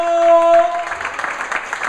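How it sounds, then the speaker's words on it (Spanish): A church congregation at an Easter Resurrection Day service breaks into applause, a steady wash of clapping that follows a sustained tone and then continues under faint voices. "Denle un aplauso a Cristo."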